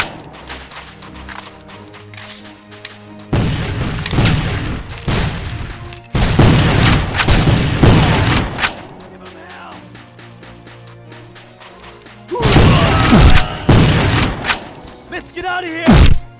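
Booming gunfire in a PC Civil War game arrives in loud, heavy bursts of overlapping shots, separated by quieter stretches of low rumble.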